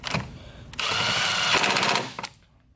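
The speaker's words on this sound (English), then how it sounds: "Then we're gonna use the Milwaukee, and I'm thinking a Milwaukee 1 is probably the proper torque on this. So we're gonna tighten it" A Milwaukee power tool tightens down a bolt while fitting a coolant expansion tank on a BMW E90 335i: a short burst, then a loud sustained whirring run of about a second that ends in rapid hammering impacts, near and alone.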